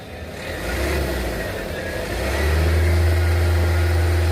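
A Mahindra Jeep diesel engine, revived after sitting unused for five years on dirty fuel, runs close by, a steady low rumble that climbs into a louder, sustained rev partway through.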